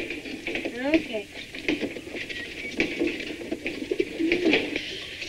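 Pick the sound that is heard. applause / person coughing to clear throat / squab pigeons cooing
squab pigeons cooing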